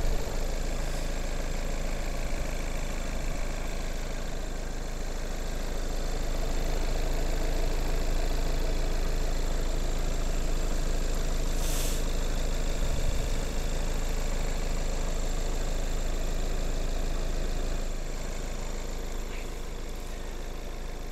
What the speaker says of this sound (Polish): posłuchajmy, jak pracuje motor